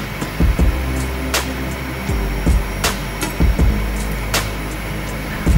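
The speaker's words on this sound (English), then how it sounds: "What you're hearing right now is the trim." Trim rattle of an Aermacchi MB 339 jet in a flight simulator game, heard as scattered low clicking rattles over a steady, loud cockpit engine hum, with a few sharp ticks, no talking.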